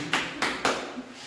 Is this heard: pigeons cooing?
no